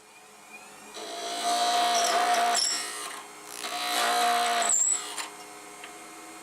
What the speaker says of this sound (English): I'll do a little bit more with that just in case that's the tool you're using.